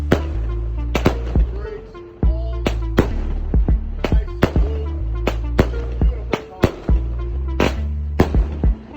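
A consumer firework cake fires 16 shots in a rapid, uneven series of sharp, loud pops and bangs. A steady low rumble runs underneath throughout.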